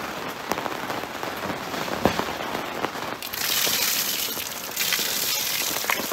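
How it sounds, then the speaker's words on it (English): Rain drums steadily on a camper awning close by, a dense hiss broken by sharper drips and splats, growing heavier partway through. "with the rain starting to come down again"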